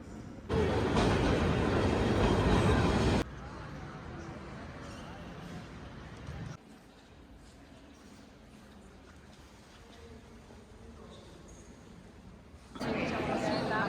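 Loud rumbling roar of a Milan metro train passing close by for a few seconds, then quieter station ambience with a faint murmur of voices before another surge.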